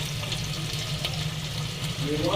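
Long-cut onions fry in a pan with a steady, dense sizzle throughout, close and even, with a brief voice rising near the end.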